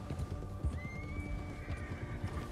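A horse in the video game Red Dead Redemption 2 clops along with steady hooves in a cold setting and gives a drawn-out neigh midway. It is fairly quiet under a low ambient rumble.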